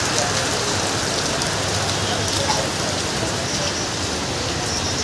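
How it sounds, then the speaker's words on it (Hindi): Steady rain falls at an outdoor vegetable market, a dense, even hiss of drops on surfaces that continues without a break, loud and close. "बारिश बारिश है।"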